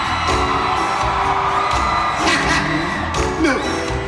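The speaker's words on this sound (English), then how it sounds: "I just want y'all to scream one time." A church congregation erupts in screams, whoops and cheers filling a large space, loud and sustained with several rising peaks, individual shouts poking out of the crowd roar.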